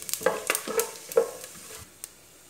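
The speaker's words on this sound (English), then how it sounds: "Give it a good stir." Whole spices frying in oil in a pot for pulao being stirred, a few scraping strokes of a utensil against the pot over a faint sizzle, close and fairly soft, with no talking.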